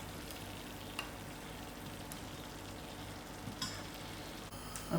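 Kebabs and chutney with lemon juice cooking in a pan on the stove, stirred: a faint, quiet sizzle with occasional soft scrapes and clicks of the spoon against the pan.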